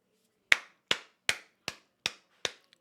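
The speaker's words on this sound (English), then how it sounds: "What are you clapping for, Ty?" One pair of hands claps six times in a slow, even rhythm, each clap sharp and close, with quiet gaps between and no other sound.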